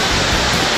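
Mae Kampong waterfall in forest near the mountain village of Mae Kampong, a steady broadband rush of falling water filling the moment without pause, close and loud with no voices.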